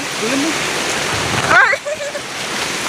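Steady rushing water from a waterfall at Ban Sawang runs as a constant wash beneath a talking voice, with a louder spoken burst midway.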